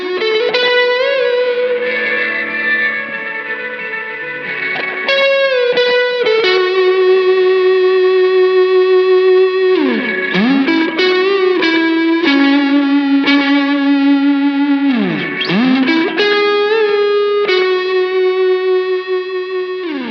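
Overdriven electric guitar playing sustained chords and bends, loud and continuous, with a spacious spring reverb tail washing behind the notes.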